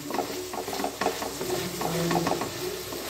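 Onions with salt and curry leaves are stirred in a hot pan for a Kerala-style chicken curry, giving a busy, continuous sizzle broken by soft scraping strokes.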